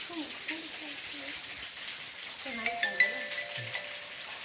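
Water trickles and drips within a cave as a steady, soft hiss, while a person speaks quietly over it and a few brief higher tones cut through partway.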